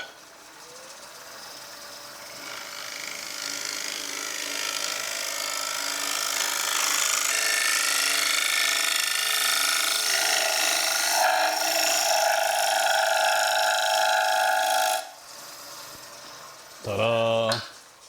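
A negative rake pointy scraper with slightly curved edges works the inside of a wooden bowl on a lathe: continuous close scraping hiss over a droning motor with a steady tonal whine, then the lathe winds down and a brief knock ends it.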